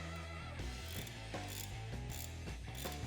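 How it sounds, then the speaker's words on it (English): A ratchet clicks steadily while tightening bolts on a Wedgelock C6 quick coupler, rapid metallic pawl ticks in short repeated strokes, close and fairly quiet. "Complete the tightening of the bolts and torque to the recommended specification."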